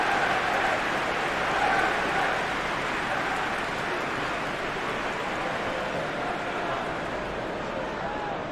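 A stadium crowd roars steadily in a Premier League football video game simulation of Manchester United against Newcastle United, a dense, continuous wash of cheering that swells slightly early and holds without pause.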